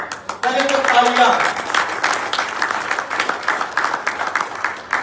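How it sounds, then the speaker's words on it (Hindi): A crowd at a cricket celebrity league tournament celebration breaks into steady, sustained applause with dense clapping throughout, while a voice calls out briefly over it near the start. "पहले तो तालियां।"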